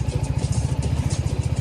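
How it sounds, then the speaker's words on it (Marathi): A Daytona sport motorcycle engine runs close by in a steady, throaty idle with a rapid, even low pulse and light mechanical clatter underneath, alone without any voices. "oh my God sport bike he डायटोना"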